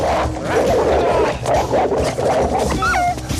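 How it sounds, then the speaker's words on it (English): A pit bull is thrown in an action movie scene, with loud dog barks, yips and whimpers among bursts of chaotic commotion, ending with a brief high yelp. "He threw a pit bull."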